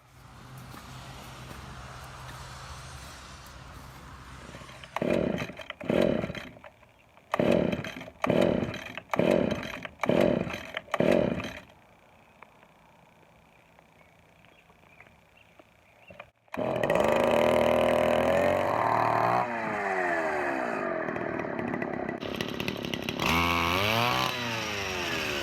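Stihl FS-76 string trimmer with a Hipa replacement carburetor. The two-stroke engine sputters in a series of short bursts, then later runs steadily at high revs, loud and close.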